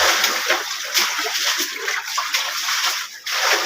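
Floodwater from rain is bailed and splashed out of a flooded shop, a near, continuous run of sloshing and splattering water with repeated scoop-and-throw surges.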